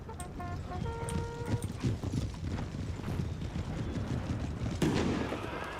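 Cavalry hooves of horse guards in the Empire Total War strategy game clatter in a dense, steady clip-clop under a noisy battlefield din, with brief tonal game cues early and a surge of noise near the end.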